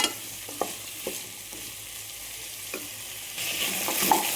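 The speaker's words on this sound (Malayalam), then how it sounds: "വെജിറ്റബിൾസ് ഒരു മിനിറ്റ് ഒന്ന് വഴറ്റി കൊടുത്തിട്ടുണ്ട്" Mixed vegetables such as drumstick and eggplant sautéing in a pan for a Tamil Nadu style koottanchoru, with a steady soft sizzle under occasional stirring clicks and scrapes, close and moderately quiet.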